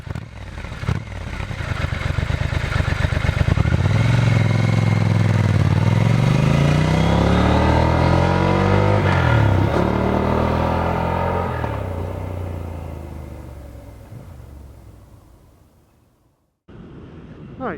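Triumph Scrambler 1200 X motorcycle, 2024 model, pulling away and accelerating through the gears, its engine note rising and falling loudly for about twelve seconds before fading into the distance, then a brief return of rumble at the end.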